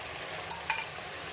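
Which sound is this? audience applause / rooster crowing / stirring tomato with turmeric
stirring tomato with turmeric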